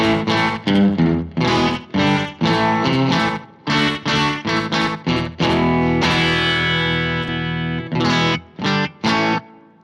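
An electric guitar runs through an all-BOSS pedalboard into a tweed amp with slapback echo, playing loud, distorted, choppy chords and short phrases with a quick doubled echo trailing each note.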